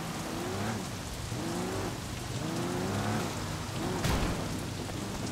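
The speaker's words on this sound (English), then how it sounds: "Oh, it's raining now." Steady heavy rain pours in the Sleeping Dogs video game, a dense even hiss with a faint engine-like drone and one sharp thump near the end.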